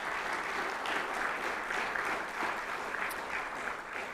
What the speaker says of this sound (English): Let's give Dr. Smith a round of applause.